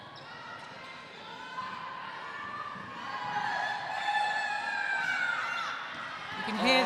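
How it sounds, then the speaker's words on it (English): Crowd at an under-17 netball match between Switzerland and Isle of Man, cheering and calling out to urge both teams on, swelling gradually and staying loud behind a commentator's steady talk. "You can hear the crowd behind us"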